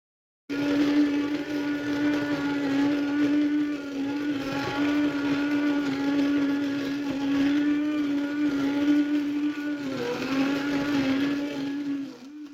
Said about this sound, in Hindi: अभी मैं हैंड ग्राइंडर की मदद से अपने तमाम फालसों को अच्छे से ग्राइंड कर लूंगा